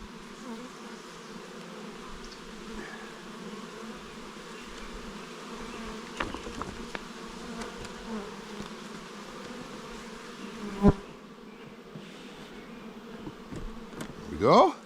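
Honey bees buzz steadily around a hive, a dense, close drone holding throughout, with soft handling knocks and one brief louder bee passing near the end.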